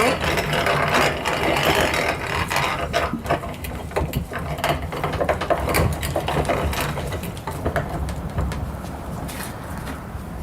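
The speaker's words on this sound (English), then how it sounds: "Eventually the pods start going through the mill" A mill grinds bean pods with a continuous mechanical churn and rattling. Dense clicks and crunches come up close, busier at the start and thinning slightly toward the end.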